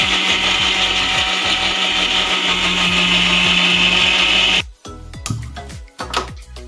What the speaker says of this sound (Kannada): ಇವಾಗ ಗ್ರೈಂಡ್ ಮಾಡ್ಕೊಂಡ್ಬಿಡೋಣ.